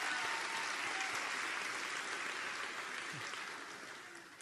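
Audience applause at a nursing school (LCON) convocation ceremony, a dense steady patter of many hands that gradually fades toward the end.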